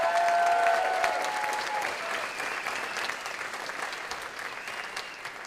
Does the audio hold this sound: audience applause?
yes